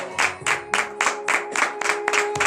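A congregation claps in acclamation during a morning prayer service in Comè, Benin, with loud, evenly spaced group claps repeating in a steady rhythm over a sustained tone.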